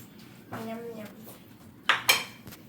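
Metal lid of a pot of chicken curry clatters open, a couple of sharp clinks and a scrape standing out close and loud after a brief murmur of background voice.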